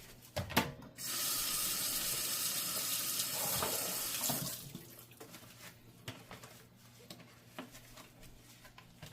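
Dishes being washed under a running kitchen tap with Dawn Platinum dish soap, the water gushing steadily for several seconds before shutting off, followed by softer clinks and rinsing splashes, fairly close.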